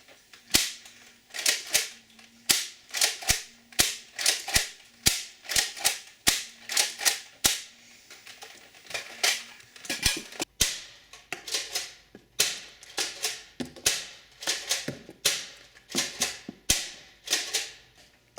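A modified Nerf Longstrike CS-6 dart blaster fires repeatedly, sharp snapping shots in quick succession with short pauses between bursts, close and clear, no talking.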